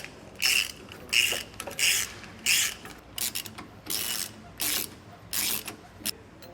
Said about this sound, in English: So just the 3/4 inch bolts are tightening.